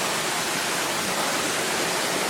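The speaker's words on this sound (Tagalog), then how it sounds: "Tubig, darak tubig." A river running over rocks in a natural outdoor spot: a steady, loud, broadband rush of flowing water with no break, close and continuous.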